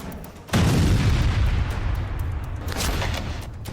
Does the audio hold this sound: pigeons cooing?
no